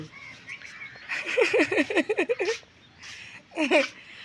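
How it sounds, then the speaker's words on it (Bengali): A bird calls close by in quick repeated chirps, then pauses and calls again in a shorter burst. "আল্লাহ পাখি ডাকতেছে তাই কি খেয়াল করে শুনতেছে পাখির ডাক"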